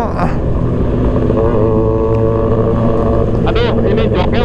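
A Suzuki GSX motorcycle engine drones loud and steady from close by under heavy wind noise, its pitch rising in a rev toward the end.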